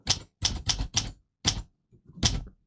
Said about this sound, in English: I love the sound of the typewriter.